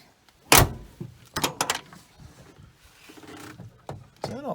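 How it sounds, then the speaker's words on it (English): A stiff truck door is opened with a sharp latch clunk, then some creaks and scrapes follow, and a final shuffle and knock close the sequence. "Door's a little tight."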